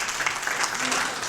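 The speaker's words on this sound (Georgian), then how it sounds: "აპლოდისმენტები" An audience at a Georgian televised song competition final applauds, a dense wash of clapping that runs evenly through the brief moment.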